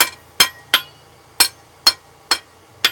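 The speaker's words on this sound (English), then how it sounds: "Just tilted my hammer towards me. Use the edge of the face like a fuller. Push the steel." Seven sharp ringing hammer blows on hot steel as a blacksmith forges horns, spaced unevenly and struck close by in a quiet shop.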